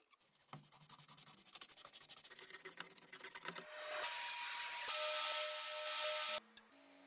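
A rusty World War II French bayonet is sanded in quick repeated rubbing strokes, close and fairly faint, which shift into a smoother continuous abrasive rasp partway through, with no talking.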